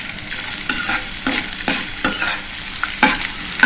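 Dry fruits for panchmeva roasting in hot ghee over a low flame, a continuous near sizzle with frequent stirring scrapes and soft clinks at an even rhythm.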